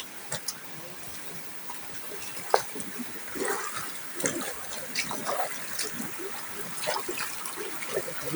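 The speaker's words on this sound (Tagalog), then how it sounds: "Ito yung dinadaan na ilog doon sa may bayambayan na dinadaanan." River water flowing near a village crossing, trickling and splashing softly at close range with small irregular gurgles and bursts, fairly faint overall.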